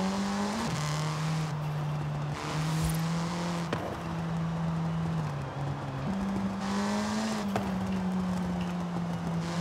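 An MG6 XPOWER in Forza Horizon 5 runs with a droning engine note that holds steady, dips briefly around gear changes and then climbs again, loud and close, with no speech.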